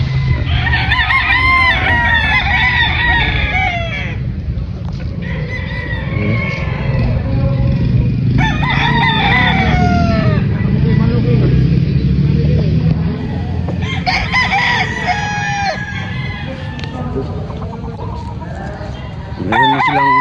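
Several gamefowl roosters of the Popeye Grill breed crow repeatedly in drawn-out calls over a steady background of clucking and farmyard noise, with a few crows sounding close and others farther off.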